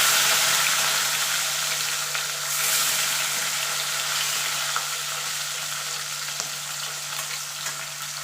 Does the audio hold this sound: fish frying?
yes